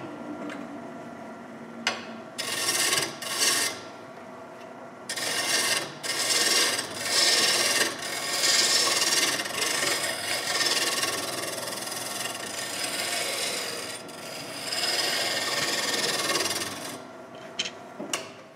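Scraping and rasping bursts from a tool cutting wood on a spinning lathe while a spinning top is turned, close and fairly loud, with short pauses between the passes.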